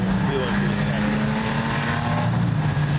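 A small winged Bandolero race car engine drones loudly at Lee speedway, a steady buzzing roar that holds for the whole stretch, with people talking over it.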